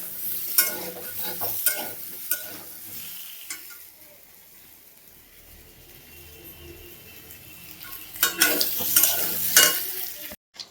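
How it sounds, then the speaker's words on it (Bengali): Spices and vegetables being stirred and sautéed in a hot pan, a steady sizzle with spatula scrapes that quiet midway and grow loud again near the end. "একসঙ্গে মশলাটা কষিয়ে নেবো"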